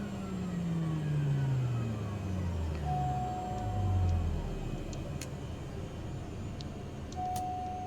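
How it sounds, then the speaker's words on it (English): Cessna 208 turboprop engine winding down after parking, its steady drone falling in pitch as it spins down, with a faint high tone and a few ticks continuing afterward. "Let's go ahead and shut the engine down."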